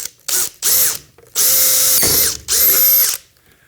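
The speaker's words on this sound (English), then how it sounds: "let's get that top one drilled. And then the bottom one." A power drill bores holes into a plastic sim racing launcher on a chassis, with several short loud whirring bursts that rise and fall in pitch, separated by brief pauses.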